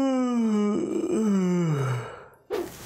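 A single long, drawn-out yawn, loud and close, its pitch sliding downward before ending in a short breathy exhale.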